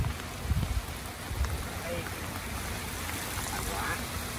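Rain falls outdoors during a storm with a broad, steady hiss. A few thumps and rustles stand out near the start, and voices can be heard talking at times.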